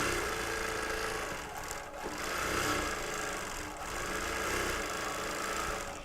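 A quilting machine hums and stitches rapidly in a continuous mechanical whir, slowing briefly a couple of times before resuming, close by with no voices.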